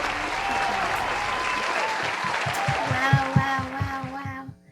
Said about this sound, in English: Please give another round of applause for the bride.